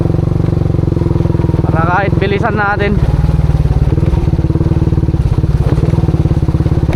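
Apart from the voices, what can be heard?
motorcycle riding on a rough track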